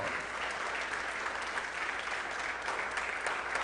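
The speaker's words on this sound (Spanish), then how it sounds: "vamos a darle un aplauso al Señor" Steady, dense applause from a church congregation, continuous and even throughout with no pauses or voices standing out.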